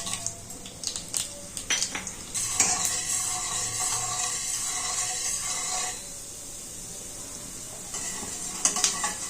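Oil sizzling steadily with cumin, mustard seeds and chana dal crackling in a pan, with a few clinks and stirring scrapes of a utensil over the hiss.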